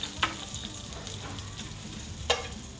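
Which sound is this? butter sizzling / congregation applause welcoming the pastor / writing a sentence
butter sizzling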